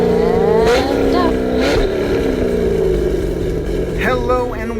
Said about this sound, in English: It's time to fire up 82 acres of Chevy V8s.